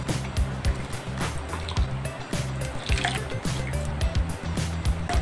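A glass of water is poured into a cooking pot of bamboo shoots for a Filipino ginataang labong dish, giving a soft, bubbly splashing and gurgling with faint clinks in a quiet kitchen.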